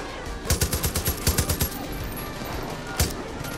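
Rapid bursts of automatic gunfire in the video game Far Cry 5, about eight quick shots in a tight rhythmic run followed by a single louder shot, set against constant game background noise.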